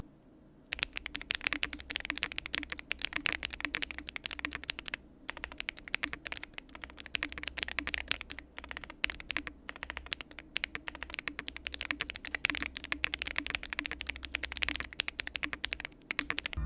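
Rapid, continuous typing on a Yunzi 75% gasket-mounted aluminum keyboard, with dense clacky keystrokes, brief pauses and a soft low hum beneath, close and clear without talking.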